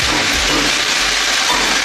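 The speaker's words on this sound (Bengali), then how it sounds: "এটা একটু ভাজা ভাজা হোক।" Potatoes and eggplant with green chillies fry in a pan. A steady broadband sizzle and hiss runs unbroken, close and fairly loud, with no voices.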